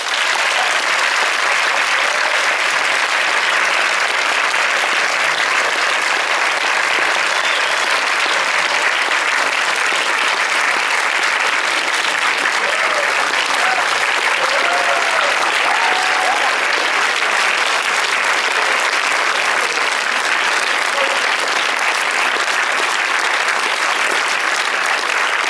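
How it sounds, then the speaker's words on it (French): Loud, dense audience applause fills a cinema at a film premiere, sustained evenly throughout without letting up, with no voices standing out. "Je vous demande d'applaudir très fort"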